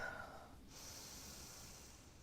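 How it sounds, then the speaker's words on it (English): A deep breath drawn in through the nose during a guided breathing exercise, a soft close airy inhale that swells and holds steady for about two seconds with no talking. "take a deep breath in"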